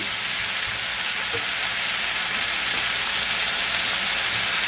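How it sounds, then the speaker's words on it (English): Chicken thighs searing skin side down in a hot pan, giving a loud, steady, dense sizzle that holds without break throughout, close up and with no talking. "You just want to get that sear on it."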